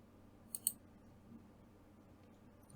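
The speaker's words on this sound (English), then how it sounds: "Let's click again." Two quick, faint computer mouse clicks in rapid succession while working with 3D printer G-code, followed by near silence in a quiet room.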